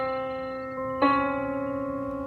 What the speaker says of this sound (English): A half step in music or on a piano is from C to the next black note.